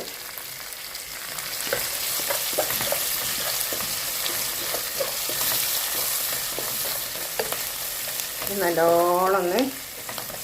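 Onions with salt and curry leaves sautéing in a pan for upma give a steady close sizzle with scattered stirring scrapes, and a voice speaks briefly near the end.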